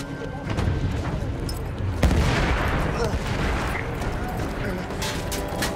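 Dense, continuous battlefield noise from the Battlefield 1 video game, with gunfire, booms and rumbling explosions layered into a loud, unbroken roar and a sharp crack near the middle.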